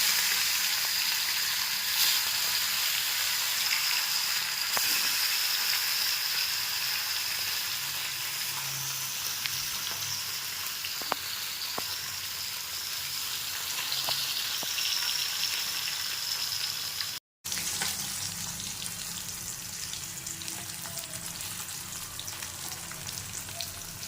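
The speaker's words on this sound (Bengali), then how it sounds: "এরপর আমি মাছগুলিকে তেলের মধ্যে ছেড়ে দেবো ভালোভাবে ভাজার জন্য" Salted katla fish fry in hot oil for doi katla, producing a continuous, close, crackling sizzle that holds steady for the whole stretch apart from one momentary dropout.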